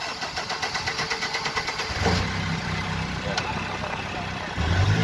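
A low-power Cummins engine, just fixed after its oil pressure wire came loose, cranks with a rapid rhythmic chugging for about two seconds, then catches and runs with a loud steady rumbling idle nearby.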